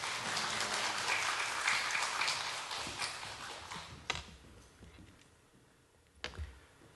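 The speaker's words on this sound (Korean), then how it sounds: "우리 박수로 환영하겠습니다." A church congregation at a Wednesday lunchtime worship service claps to welcome a missionary; dense applause fills the first few seconds, then thins into scattered claps and fades, with a couple of sharp knocks near the end.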